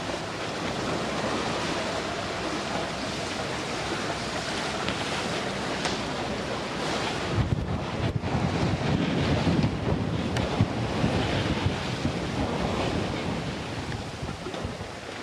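Wind buffets the microphone and waves rush along the hull of a sailboat crossing the Mediterranean off Sicily in about 8 to 9 knots of wind, a constant loud roar with a heavier surge of water midway.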